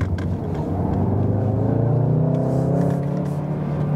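A Volkswagen Golf R facelift, 310 hp with all-wheel drive, rolls out steadily on a racetrack, its engine a loud, continuous low rumble with a slowly rising tone and no voices.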